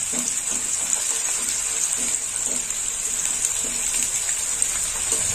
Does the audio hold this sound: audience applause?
no